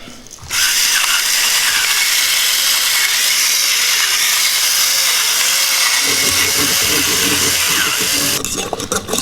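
Steam hisses loudly from an electric pressure cooker, a continuous close, broad rush that starts abruptly and runs steadily for about eight seconds before cutting off, with faint clatter near the end.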